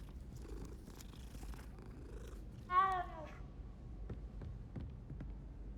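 A cat in the video game Hogwarts Legacy gives a short, rising purring chirp about midway through, standing clearly above a low steady game background hum.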